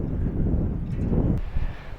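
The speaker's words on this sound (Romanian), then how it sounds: "probabil cel mai vânturos punct" Strong wind gusting over a microphone on Windy Hill in Gibraltar, a loud steady roar with heavy low buffeting that eases briefly and then surges again.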